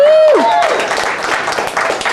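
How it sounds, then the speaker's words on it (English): Audience applause at a circuit bending music night at Madison Pop Fest, steady clapping from a small crowd, starting right after a fading electronic tone and a voice, fairly loud and continuous. "Can I get another round of applause to everybody"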